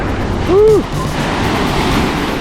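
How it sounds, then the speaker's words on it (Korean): Strong surf rolls onto a beach at Playa del Carmen on a windy, rainy day, a steady close wash of waves with wind noise across the microphone and a brief voice rising over it. "파도 엄청 세"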